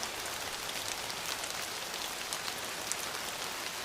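Steady rain falls, a dense and even hiss of drops hitting a surface that stays quiet and unchanging throughout, with no voices.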